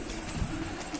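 High flyer pigeons let out a short, faint coo against blustery wind on a cool, cloudy day after rain.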